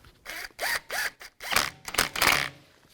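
A screw is driven into a 2008-2017 Buick Enclave front brake assembly, giving close, repeated bursts of sharp ratcheting clicks separated by short pauses.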